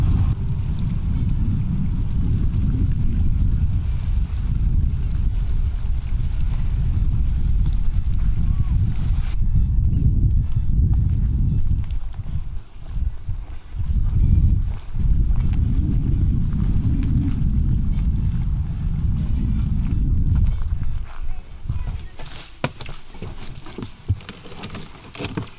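A Toyota Land Cruiser 80 with a new engine drives along, its steady low engine and road rumble loud and close inside the cabin, easing off briefly mid-way before resuming, with wind noise at the end.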